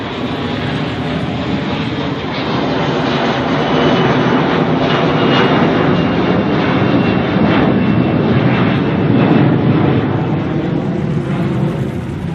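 A loud, steady roar of an airplane passing overhead in Key West, filling the whole stretch with a broad engine drone and no talking.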